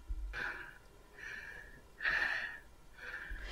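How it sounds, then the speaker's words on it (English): Heavy, labored breathing, four slow breaths in and out, each a soft hissing rasp, close and fairly quiet with short pauses between. "You sound like one of those heavy-breathing perverts on the telephone."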